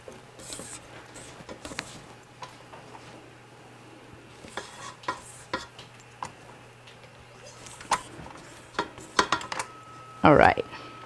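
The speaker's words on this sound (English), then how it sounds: "I'm going to lower it and use my spatula to just scrape down the sides of it" A spatula scrapes down the sides of a mixing bowl in a home kitchen, giving scattered light scrapes and taps that grow louder and busier toward the end over a quiet background.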